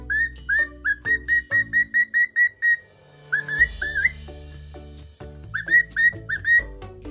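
A pet bird whistles a rapid series of short, repeated chirping notes, pauses, then resumes with more whistled calls over a low background.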